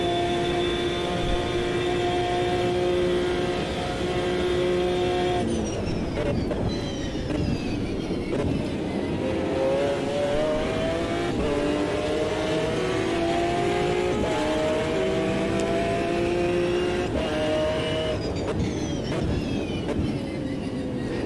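A high-pitched race car engine in the video game Automobilista 2 screams steadily, its pitch dropping and climbing again with each gear shift, loud and continuous throughout.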